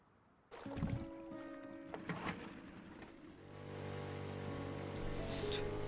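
Boat ride home in the survival video game Rust: a motorboat engine starts up and hums steadily with a rising, droning tone and faint water sounds, heard alone at low level.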